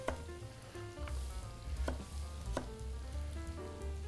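Onion frying in a pan, a close steady sizzle running throughout, with a few sharp clinks and stirring knocks at intervals and no talking.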